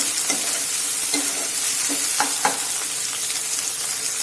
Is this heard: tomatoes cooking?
yes